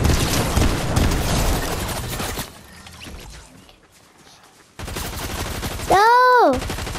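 Fortnite battle royale gunfire: a dense, loud burst of rapid shots for about two seconds, then a quieter lull, followed by game sounds including a rising and falling tonal sweep.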